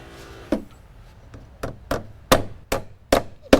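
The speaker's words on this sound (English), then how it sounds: "Using a positive placement nailer, we're going to shoot the hangers into place" Sharp percussive bangs from a positive placement nailer fire metal joist hangers into porch framing lumber, about eight shots spaced irregularly over a few seconds, close and loud with no talking.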